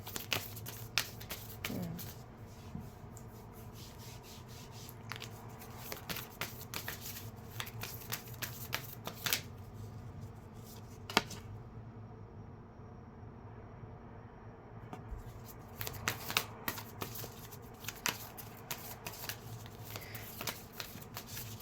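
A deck of shadow cards is shuffled and handled in a quiet room, giving repeated soft riffles and light card snaps. A short hush falls midway before the brisk card handling resumes.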